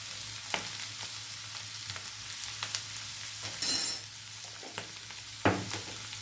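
Grated potato mixture frying in a pan for a fasting snack, with repeated soft scraping stir strokes over a low steady sizzle and one brief brighter hiss burst midway; no talking.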